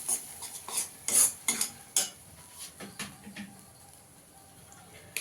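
Ground cumin being stirred into a pointed gourd filling in a pan, giving a run of scraping and clinking utensil strokes, louder at first and then thinning into soft, sparse scrapes with a faint sizzle, no voices.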